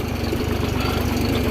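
A Deutz-Fahr 55 4WD tractor with water-ballasted tyres pulling a Lemken plough, its diesel engine running steadily with a low, even throb and rattle, loud and close with no talk.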